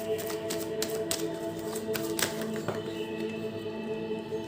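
Tarot cards being shuffled by hand, a run of quick close riffling taps and flutters over a steady low background hum, with no one speaking.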